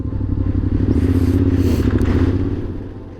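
A motorcycle rides on a ripio gravel road in Patagonia, its engine droning loud and close while loose gravel clatters and scrapes under the tyres, wind rushing over it and the sound easing off at the end.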